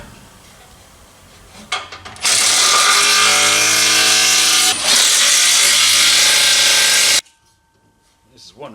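A power ratchet tightens exhaust hangers on a Ford F100 Ranger's new exhaust with Headman headers and a 302 small-block Ford, running as one loud, steady whir for about five seconds with a brief dip midway.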